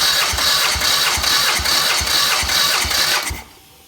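An engine out of its car is cranked on a stand for a compression test, giving about eight rhythmic, chugging pulses of starter-driven turnover before it cuts off abruptly into near silence.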